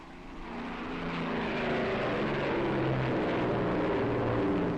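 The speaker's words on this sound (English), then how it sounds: "After briefing in the cold November dawn, 29 Lancasters race along the runway." Several WWII Avro Lancaster bombers roll down a runway for takeoff on a cold November dawn, a loud, steady drone of piston propeller engines that swells in the first second and then holds, with no talking.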